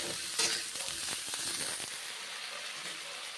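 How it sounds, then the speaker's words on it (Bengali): Cauliflower and mushrooms fry in a pan for a vegetarian curry, giving a steady close sizzle and hiss with a few stirring scrapes near the start. "এইভাবে ভেজে নিচ্ছি ফুলকপিগুলো মাশরুমগুলো এইভাবে ভেজে নিচ্ছি"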